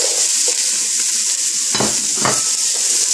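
Onions and apple frying in a pan over really high heat, a loud, steady sizzle with a few stirring scrapes and clatters of a utensil against the pan.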